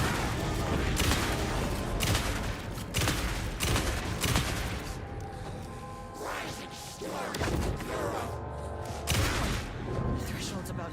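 Gunfire from a gun in the video game Alan Wake 2: repeated loud, close shots spaced irregularly through the stretch, each a sharp blast with a brief decay, mixed with thuds and game ambience.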